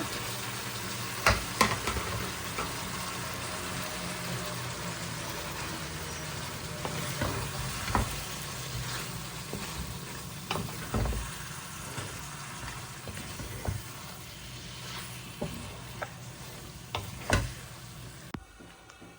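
Hilsa fish and water lily stems fry in a pan, giving a continuous moderate sizzle with occasional sharper clinks and scrapes from stirring, and no voices.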